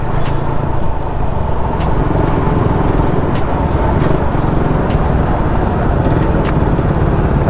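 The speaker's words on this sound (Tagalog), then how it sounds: "Traffic talaga pag ganitong oras, alas 7." Heavy rush-hour road traffic at night, heard from a Raider 150 motorcycle riding from Bacoor to Dasmariñas, Cavite: a continuous loud roar of engines and road noise, close and unbroken throughout.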